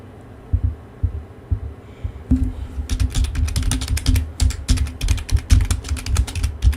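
A computer keyboard clacks up close, first in a few scattered taps, then in rapid, dense bursts of keystrokes over a low background hum, with no talk.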